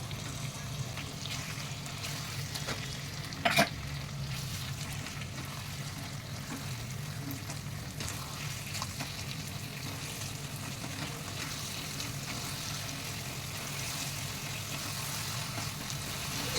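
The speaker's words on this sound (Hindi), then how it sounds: "हम इसमें ये मसाला डाल देंगे जो हमने खोपरा तेल पीसा है टमाटर के साथ में" A ground masala of coconut and tomato fries in a pan with a continuous low sizzle and bubbling hiss, punctuated by a few light knocks and scrapes of a spoon, steady and close without speech.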